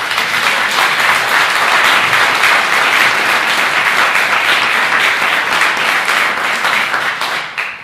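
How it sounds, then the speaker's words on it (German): Loud, sustained applause from the audience at a ceremony marking a fire brigade and emergency chaplaincy anniversary in Hagen, holding steady for several seconds before tapering off at the end. "Das ist auch nochmal Applaus wert."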